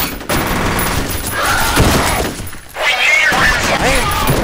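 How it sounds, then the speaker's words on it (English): Bursts of automatic gunfire and impact hits strike the player in a soldier shooter game, loud and dense, with brief thuds and crackling over a continuous battle din. "I am taking way too many bullets here"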